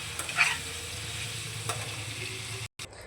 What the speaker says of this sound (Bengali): পনিরটাকে ভেজে তুলে নিই।